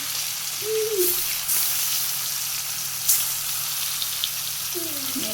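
Fish frying in a pan for a Bangladeshi home-style curry, a steady broadband sizzle running throughout at moderate level, with faint clinks and a brief voice-like tone near the start and end.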